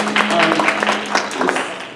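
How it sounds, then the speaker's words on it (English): A brief patter of applause at a university board of trustees meeting, a roomful of hands clapping against a low electrical hum for about two seconds before fading. "I just want to give a round of applause to Ms."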